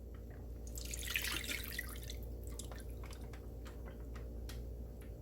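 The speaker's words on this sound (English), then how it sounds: "We use a small hole to kind of strain the juices out." Juices from a roast beef strain and drip through a small hole, making soft, steady trickling and dripping, with a brief louder splash of liquid early on and small intermittent drips after.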